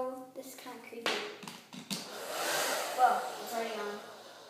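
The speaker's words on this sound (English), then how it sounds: "I'm gonna use the blow dryer." A blow dryer whooshes on and runs as a steady airy roar after someone speaks and a few taps and clicks sound nearby.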